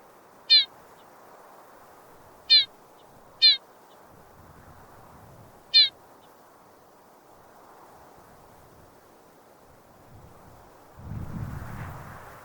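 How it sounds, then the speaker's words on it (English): A small male bird on Kangaroo Island gives four short, sharp finch-like calls, spaced irregularly and clear over quiet outdoor ambience, followed by a low rustle or gust near the end. "And this is him making a call. It sounds like a finch,"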